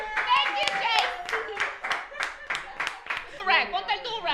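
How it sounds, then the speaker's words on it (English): Live audience clapping at a wrestling comedy show, a burst of hand claps rising and fading over a few seconds, close and fairly loud, with voices chattering through it. "Can we get a round of applause? A big round of applause"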